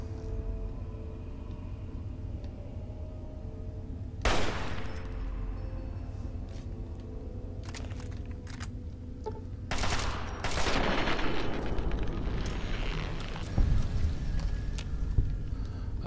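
Gunfire in the video game Fallout 3: a sharp burst of shots near the start, then a denser volley of rapid fire with rumbling booms later on, loud and close against a steady background with no talk.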